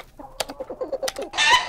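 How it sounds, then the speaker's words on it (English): Chickens clucking close by in a short run of rhythmic clucks, with a brighter, louder squawk at the end. "These are Keyboardio's chickens."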